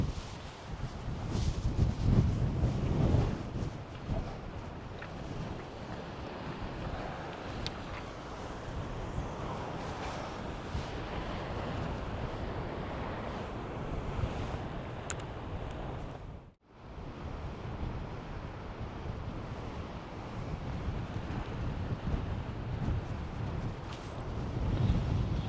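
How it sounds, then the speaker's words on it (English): Strong, steady wind buffeting the microphone on the shore at Anglesey, with surf rumbling beneath and a brief dropout partway through; no voices. "It's sunny, but it's very windy."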